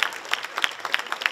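Audience clapping for the models at a fashion show, close, sharp individual hand claps in a quick irregular rhythm, loud and alone.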